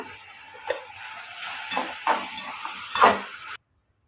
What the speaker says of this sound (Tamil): அதை நல்லா வதக்கி எடுத்துக்கலாம்